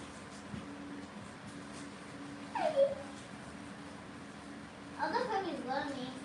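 Cavalier puppies give faint, brief whimpers and high yips indoors, two short rising cries a few seconds apart over quiet room noise.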